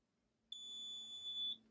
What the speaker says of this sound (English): There's my beep. So now I know it's cooled sufficiently.